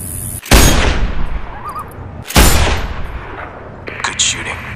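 Two loud, sharp sniper rifle shots in Sniper Ghost Warrior 2, each a heavy crack followed by a long echoing decay, about two seconds apart, with softer game sounds and faint ambience between them.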